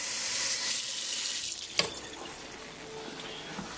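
Tap water runs into a can at a kitchen sink, a bright hissing stream that fades after a moment, followed by a clunk and quieter water trickles and small clatters.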